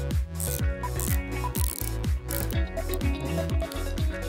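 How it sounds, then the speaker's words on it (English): The rotating bezel of a gold-plated Invicta Subaqua Noma 18530 chronograph watch ratchets through a quick run of crisp, close clicks, with soft music underneath. "This bezel does turn."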